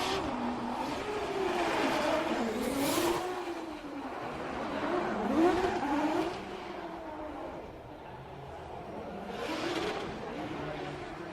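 A Formula Drift car on a recon lap at a Montreal event, its engine revving and rising and falling as it swings through the course, with tire squeal heard under continuous commentary.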